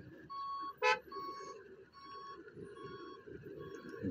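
An Ashok Leyland 3718 truck backs up, its reversing alarm sounding steady evenly spaced beeps over a loud diesel engine rumble, with a sharp short burst early on.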